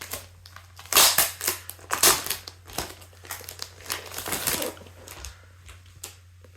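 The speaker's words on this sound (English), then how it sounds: "So we've got the little paper backing. Let's get that off." Paper backing being peeled off a cardboard game box for a Nintendo Switch shoot-'em-up, close crinkling and tearing rustles in short bursts with quiet pauses between.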